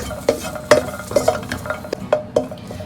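Garlic dry-roasting in a pan while being stirred, a spoon scraping and knocking the metal in irregular strokes over a faint sizzle, close and clear.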